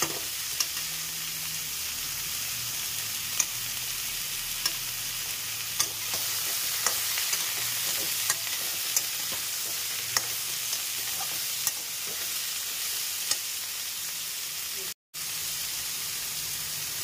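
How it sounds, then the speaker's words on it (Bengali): Mixed vegetable curry of potato and eggplant sizzling in a pan, a dense, constant fry with light periodic scrapes and taps from stirring and a brief cutout near the end. "একটু নেড়ে চেড়ে নিলাম"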